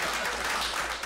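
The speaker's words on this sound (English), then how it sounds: "go ahead and cheer again" An audience at a talk gives a short, dense burst of clapping and cheering that fills the whole moment before cutting off.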